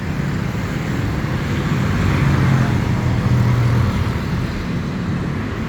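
Bangkok street traffic of cars, trucks and motorbikes, a loud steady roadway rumble with engines swelling as vehicles pass close by, no speech.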